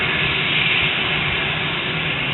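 Cessna Citation Mustang business jet at Bundaberg Airport produces a loud, steady broadband engine roar and whoosh, filling the whole clip with no pauses.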